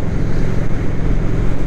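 Honda Shadow 750 custom motorcycle cruising on a highway at about 80 km/h, heard from the rider's position as a steady, loud engine drone mixed with heavy wind rush, continuous with no talk.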